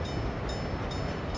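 Train rolling along a rail line in Workers and Resources: Soviet Republic, a steady dense rumble with faint periodic clicks, continuous and fairly quiet throughout.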